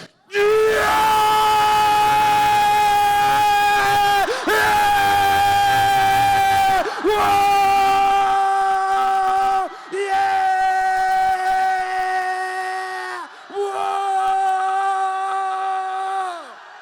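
A crowd at a church gathering gives long sustained shouts together on a count, loud and close. There are several drawn-out bursts, each followed by a brief pause before the next.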